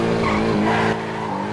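A police car in a roleplay driving game swings through a turn with a loud, sustained tire skid over steady engine roar, close and continuous.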